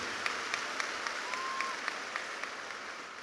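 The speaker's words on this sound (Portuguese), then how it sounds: "Let's clap for Bishop T.D." A large church congregation in Brazil applauds Bishop T.D. Jakes with a steady, sustained wash of clapping that sounds somewhat distant and even throughout.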